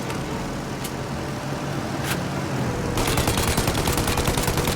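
Gunfire in the Mafia video game, aimed at the engines of a plane trying to take off. Rapid, dense shooting grows louder and more continuous partway through, over a steady engine roar.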